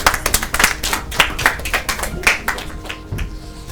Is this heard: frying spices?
no